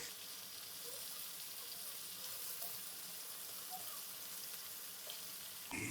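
Chicken karahi frying in a pot as tomatoes are added, giving a quiet, steady sizzle with faint stirring and splashing, and no voices.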